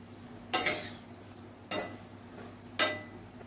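Paneer drops into a pan of sautéed onion and tomato, giving three brief clattering scrapes with a soft sizzle, spaced about a second apart against a quiet kitchen hum.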